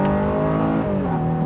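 A 2026 Honda Ridgeline RTL pickup accelerating on the road, a steady, loud engine drone heard from inside the cabin that holds its pitch and then drops slightly as a gear shifts.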